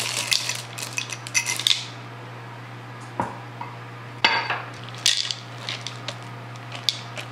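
Chocolate chip morsels folded into pumpkin cupcake batter in a bowl, with soft scraping and clinking of utensil against the bowl in irregular bursts over a steady low hum, no talking.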